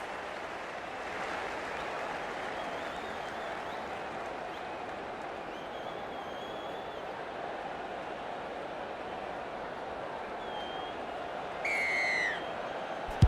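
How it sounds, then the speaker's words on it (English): A rugby league crowd at a Rabbitohs versus Eels match roars steadily at kickoff, a broad continuous stadium wash of cheering with a few whistles rising above it. "The crowd's up."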